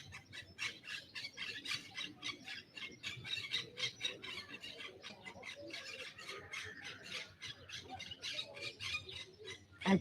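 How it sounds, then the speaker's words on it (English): Many birds chattering and squawking continuously in a busy outdoor chorus in Retiro Park, steady and moderately loud with no one talking. "acknowledging the sounds of the birds"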